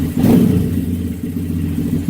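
Honda Grom motorcycle on a stand with its warmed-up engine running, a steady mid-pitched idle with a brief rev at the start, close and loud with no talking.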